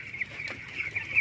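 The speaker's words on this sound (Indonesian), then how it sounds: "ayamnya nyaman guys nih seperti ini" Chickens in a bamboo rack brooding cage cluck softly and close by, giving a few short repeated calls over a quiet background.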